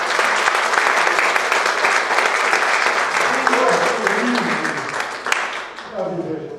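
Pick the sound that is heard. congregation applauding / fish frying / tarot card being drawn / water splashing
congregation applauding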